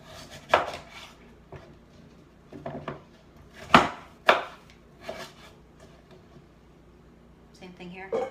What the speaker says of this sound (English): I cut it in half. It makes it easier to cut.